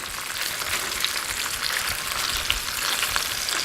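Chicken roulades and onions frying in a pan, a continuous bright sizzle and crackle with occasional louder pops, steady and close throughout, with no talking.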